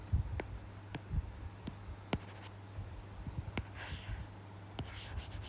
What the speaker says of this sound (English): Let's erase all this.